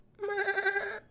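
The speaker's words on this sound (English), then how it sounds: "Big goat." A goat in a video game lets out one short, clear bleat, wavering and lasting about a second, with no talk over it.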